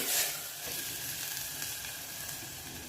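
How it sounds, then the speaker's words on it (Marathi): A large onion sautés in hot oil with a big tomato over medium-high gas, giving a steady, close sizzle that keeps an even level throughout with no voices. "एक मोठा कांदा घेतलाय, ह्याला 1-2 मिनिटं फक्त परतवून घेऊया।"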